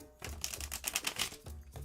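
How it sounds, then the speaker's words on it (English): A new Crystal Visions card deck being shuffled, a quick rattling flurry of card riffles close by, with short pauses at the start and end. "I'm going to give this one a shuffle"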